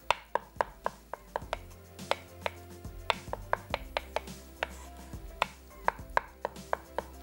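Six boiled eggs, yolks and all, chopped with a knife on a board: a brisk, steady run of sharp taps, close and clear, with no talking over them.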